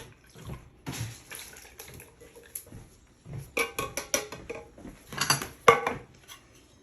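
Canned tomatoes being poured from two 20-ounce cans into a bowl for homemade salsa, giving irregular wet sloshing and clinking bursts of metal and dish contact at close range in a home kitchen.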